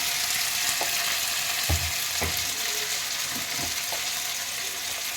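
Mutton with ginger garlic paste fries in a pan with a loud, continuous sizzling hiss, broken by a few soft knocks and scrapes of a spoon.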